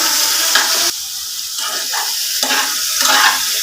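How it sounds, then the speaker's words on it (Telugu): Brinjal pieces, dry and tossed with turmeric and salt, frying in a pan, loud close sizzling that surges and dips as the pieces are stirred, with scraping sounds and no speech. "కట్ చేసుకొని ఉంచుకున్నాం కదండి పక్కన వంకాయ ముక్కలు, వాటర్ ఏమీ లేకుండా అండి ఇందులో వేసేస్తాం."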